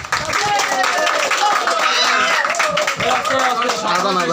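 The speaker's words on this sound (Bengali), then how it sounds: "নতুন সভাপতির জন্য একটা তালি হোক" A small group at a volunteer committee meeting claps for a newly elected president, brisk steady applause lasting several seconds with voices talking over it.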